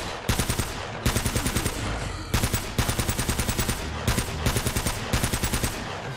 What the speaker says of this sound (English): Yo, this Tommy gun is no joke.